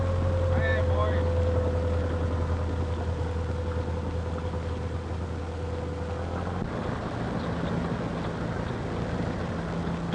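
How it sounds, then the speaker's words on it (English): A low, steady motorboat engine drones through the first six seconds, then gives way to wind and water noise, with a voice heard briefly. "Could be a motorboat."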